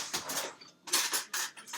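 A small spoon clinks and scrapes lightly against dishes in a few quick bursts while bath bombs are being made. The sounds are close and fairly soft, with no voices.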